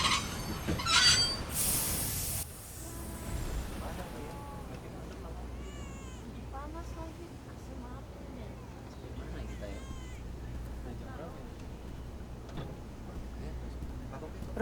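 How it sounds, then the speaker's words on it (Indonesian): Jakarta-Jogja express train in motion: a loud rumble with a high squeal that cuts off abruptly as it halts, followed by a quieter low hum with scattered chirps and a cat-like mew in the carriage. "Saya dalam perjalanan bisnis naik kereta ekspres Jakarta-Jogja saat kereta tiba-tiba berhenti"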